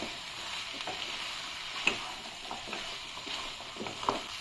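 Boiled jackfruit flower stir-fried in hot oil with tomato masala sizzles steadily in the pan, with a spatula scraping and clinking now and then and no voices.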